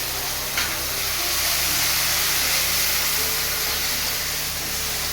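Mustard, garlic and chili paste hitting fried onions in a hot pan for a potato-onion jhalda, making a loud, continuous sizzling hiss with a steady low hum underneath.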